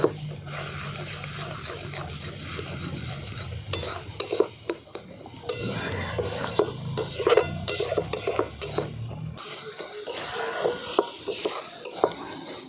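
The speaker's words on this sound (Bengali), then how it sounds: "এরপর সমস্ত কিছু আমি একসঙ্গে খুব ভালো করে কষিয়ে নেব" Green chillies and masala for a country-chicken curry are stirred and fried in a pan, with a spatula scraping and clinking against the metal and a steady sizzle running throughout, loud and close, with no talking.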